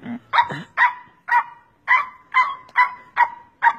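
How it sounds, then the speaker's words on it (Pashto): A dog barks repeatedly at close range, about nine sharp, evenly spaced woofs with short pauses between, loud and clear with nothing else going on. "this is doggy, my doggy"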